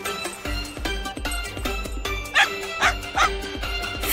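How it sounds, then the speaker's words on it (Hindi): A cartoon dog barking, three short sharp barks near the middle over busy animated music and effects. "बदमाश कुत्ता"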